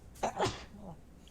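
A single short sneeze, fairly close and moderately loud, during a tabletop card game stream.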